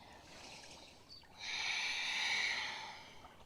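A long, steady breath drawn through the nose during a yoga session, close and airy, rising and then fading, with no talking.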